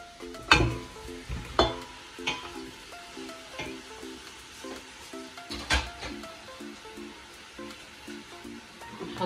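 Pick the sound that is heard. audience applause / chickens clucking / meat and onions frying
meat and onions frying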